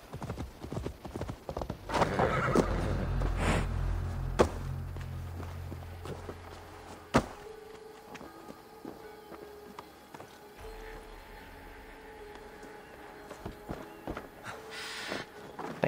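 Horse in Assassin's Creed Valhalla snorting and whinnying up close, followed by a run of clopping hoofbeats that slow and settle, with game ambience underneath.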